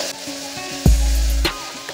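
Potatoes and onions sizzling in a hot pan, a steady frying hiss with a sudden heavy low rush midway as more is stirred or added, loud and close with no voices.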